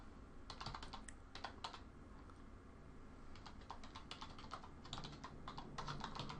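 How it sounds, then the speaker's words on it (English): Someone types a search keyword on a computer keyboard in quick, faint clusters of key clicks with short pauses between them. No one speaks. "in the main search box I can type in this keyword that I'm interested in targeting for my website. So I'll type that in."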